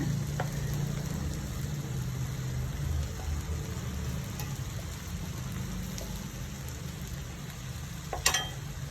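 A lentil and drumstick leaf thoran fries in a pan while it is stirred, making a steady, quiet sizzle with occasional scraping clicks and a sharper clatter near the end.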